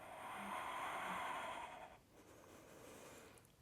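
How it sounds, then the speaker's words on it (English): Heavy, effortful breathing during a challenging postpartum core yoga exercise, with a long close breathy exhale followed by quieter breaths in a faint, still room. "So you can even hear my breathing."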